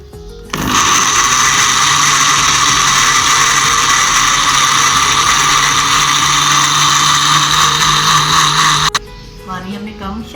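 A kitchen blender whirs loudly and steadily for about eight seconds, blending cucumber with water, then cuts off abruptly, leaving a brief stretch of quieter room sound.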